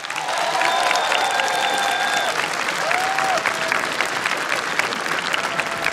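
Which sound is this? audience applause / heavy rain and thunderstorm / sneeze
audience applause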